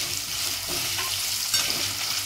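Potatoes tossed into a pan with roasted green chilies for sabudana khichdi, frying with a steady sizzle while a spoon scrapes and stirs in short strokes, close by and wordless.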